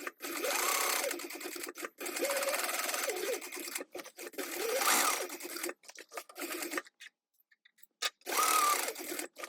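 A sewing machine top-stitching along the fabric edges of a bag runs in several bursts of steady rapid whirring and needle clatter, close up, with short stops between runs.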